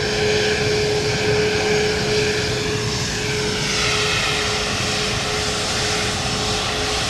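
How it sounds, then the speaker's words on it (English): A Bombardier Global 5000 private jet passes at London Luton Airport, a loud continuous roar with a steady whining tone and a slowly shifting sweep as it goes by, alone with no voices. "we're going to keep eyes on this beautiful Bombardier private jet as it comes past us there"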